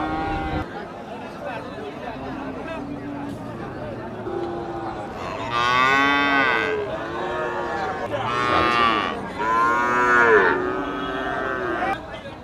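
Cattle, including a Holstein Friesian calf, moo loudly several times at the Patgram cow market, with long calls near the end over a murmur of people talking in the background.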